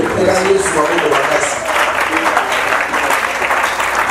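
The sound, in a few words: applause and cheering for the Lord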